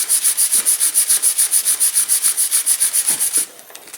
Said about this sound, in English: And I hit them with some sandpaper.